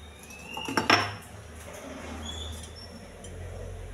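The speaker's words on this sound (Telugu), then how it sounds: "స్టవ్ వెలిగించి పెనం పెట్టుకోవాలి." A flat pan set on a lit stove in a home kitchen, one clattering metal clunk near the start, then a low steady burner hum.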